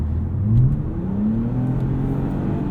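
A Toyota Camry TRD V6 engine accelerates in a 2020 car, a steady loud drone with a rising pitch heard from inside the cabin, with no talking.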